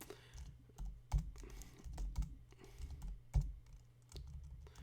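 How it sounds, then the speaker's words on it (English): Quick keystrokes on a computer keyboard, clicking in uneven bursts with a few heavier key presses, close and fairly quiet, with no voices. "you can type in a number and hit J"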